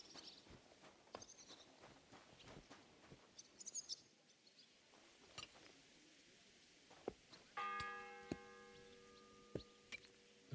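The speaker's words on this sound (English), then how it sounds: "The first bell." A church bell in the video game Kingdom Come Deliverance II strikes once with a sustained, ringing tone that hangs in the air. It sounds fairly faint over soft ticking and footstep-like taps.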